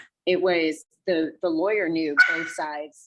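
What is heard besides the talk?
dog barking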